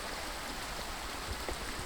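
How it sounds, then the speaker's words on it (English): A healthy creek called Quebec Branch flows at a trail crossing in the Grayson Highlands near Mount Rogers, Virginia, producing a steady, soft broadband rush of water with no voices. "we got another creek crossing. This is called Quebec Branch. Pretty nice, healthy stream."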